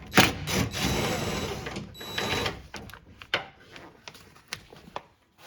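Short whirring bursts of a power tool backing out 10mm window regulator bolts inside a Toyota Tundra door, followed by a series of sparse metallic clicks and taps as parts are handled nearby.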